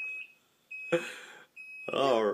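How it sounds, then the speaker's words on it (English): A Raspberry Pi door security alarm sounds a steady high electronic beep that stops and restarts, close and fairly loud, with people talking over it. "the alarm goes off."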